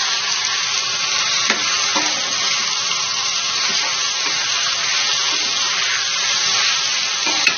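Chopped medium tomatoes tossed into hot oil with ginger-garlic paste in a pan for a tomato drumstick curry, sizzling loudly and continuously with occasional scrapes of a stirring spoon.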